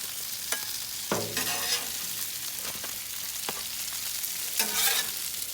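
Bacon sizzles steadily on a flat-top Blackstone griddle, a close, continuous crackle broken by a few louder scraping bursts from a spatula.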